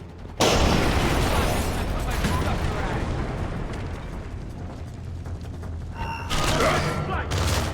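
A grenade blast booms in Splinter Cell Conviction, a loud rumbling explosion that sustains for several seconds before a burst of gunfire crackles near the end.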